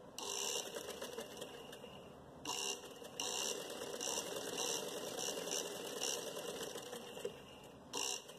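A sewing machine stitches elastic into trousers in a steady rapid mechanical chatter with brief pauses and bursts, close and quiet, with no talk.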